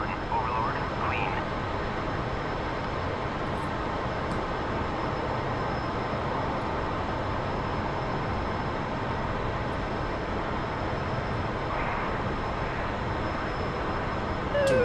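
Aircraft engine in a DCS flight simulator, an F-14 or MiG-21 making a low flyby, gives a steady loud broadband roar that holds for the whole stretch with no clear rise or fall, with radio chatter over it.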